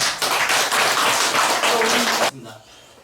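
Audience at a Buddhist gathering claps in sustained applause for a dharma teacher, a dense burst of many hands lasting a couple of seconds before cutting off into quiet room sound with faint talk.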